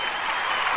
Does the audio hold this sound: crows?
no